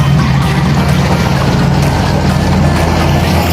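A rubber boat's outboard engine runs in a loud, steady drone close by, with rushing water and wind noise over the throbbing motor.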